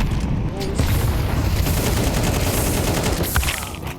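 Rapid gunfire crackles through a Counter-Strike esports match, dense bursts of shots layered over a loud, busy game mix, with a caster's voice talking over the action.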